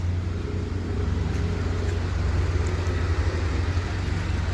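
A car engine runs steadily at low revs during a driving lesson on a slope, a continuous near hum with a deep rumble and no talking.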